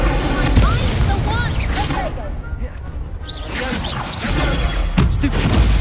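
Incendio fire spell cast in the Hogwarts Legacy video game during a duel: loud whooshing bursts and booming impacts amid busy combat effects, with voices heard in between.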